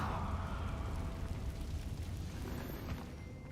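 A Confringo spell explosion in Hogwarts Legacy, a sustained loud, rumbling blast that fills the whole clip and slowly tails off, with no talk over it.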